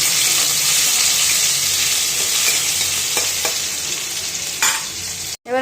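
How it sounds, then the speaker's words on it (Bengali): Panch phoron spices, grated ginger and green chili fry in hot oil, giving a steady loud sizzle with a few stirring scrapes near the end and no talking. "আর কাঁচা লঙ্কা দিয়ে দেবো কিছুটা, দিয়ে একটু ভেজে নেব।"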